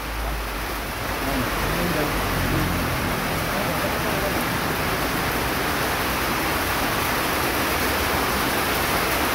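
Steady heavy rain pours down with a dense, even hiss at close range, continuous and unbroken, during a car repair job on a second-generation Honda CR-V with a transmission fluid leak.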